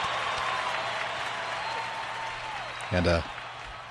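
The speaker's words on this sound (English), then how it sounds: "let's give you a round of applause for that" Audience applause, a steady wash of clapping heard under a low hum, with a brief spoken word from a voice near the end over the clapping.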